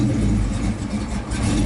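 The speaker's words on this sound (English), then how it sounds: "You see now the car is idling," A Ford Mustang engine idles steadily just after startup, its idle air control holding a low, continuous rumble up close with slight fluctuations in revs and no talking.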